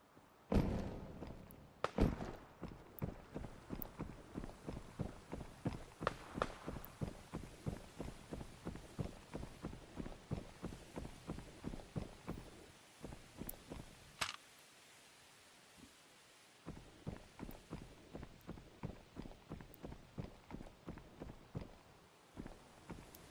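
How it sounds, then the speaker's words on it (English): Rapid, evenly paced footsteps patter through a video game for most of the stretch, a steady run of soft thuds with a brief pause near the middle before the steps resume, fairly close and alone without talk. "I hear footsteps."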